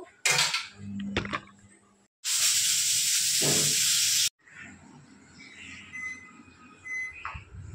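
A pressure cooker on a home kitchen stove lets out a loud, steady hiss of escaping steam for about two seconds, framed by quieter clinks of utensils and dishes before and after.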